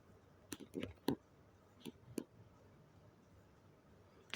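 A few soft clicks from a computer keyboard and mouse, sparse and quiet, spaced irregularly across a few seconds in a calm room.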